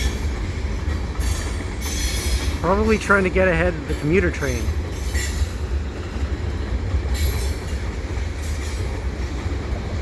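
CP freight train hauling stacked container cars pulls out with a steady rumbling roll and wheel noise, while someone talks briefly over it partway through.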